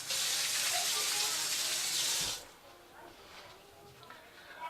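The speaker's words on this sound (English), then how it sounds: "Let me rinse my hands off here." Tap water runs over a person's hands, a steady broadband rush for about two and a half seconds that cuts off abruptly, leaving quiet room tone with faint speech in the background.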